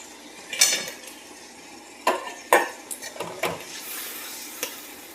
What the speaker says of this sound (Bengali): ছোলা ডালের বড়া ভেজে রেখেছি, এবার দিয়ে দিচ্ছি বড়াগুলো।